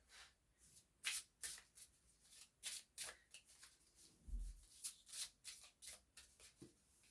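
Oracle cards for an Isis oracle deck shuffled by hand in a quiet room, a run of crisp riffling bursts and soft flutters repeating in an uneven rhythm, close up, with no talk over it.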